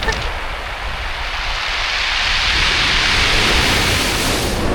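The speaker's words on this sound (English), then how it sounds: "the way the water sounds when it's going out with the rocks" Surf washes back over rounded beach rocks on the Portland coast, a loud, continuous, close-up hiss and rumble of receding water with no voices.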